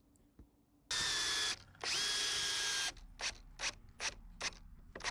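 A power drill drives ledger lock fasteners into a deck frame with two long, loud whirring runs, followed by a quicker series of short bursts as the screws seat.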